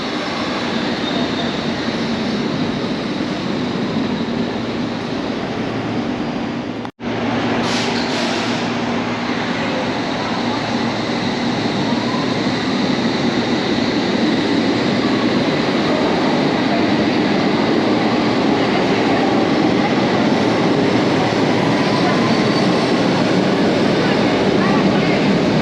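A Metropolitan line train of the London Underground rumbles steadily through the eastbound platform at King's Cross on the original 1863 section of the Met, a continuous loud rolling roar with a brief break near the start.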